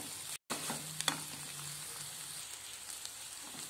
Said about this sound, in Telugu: ఎగ్ అనేది ఇంకొక 2 మినిట్స్ ఇలా ఫ్రై అవ్వండి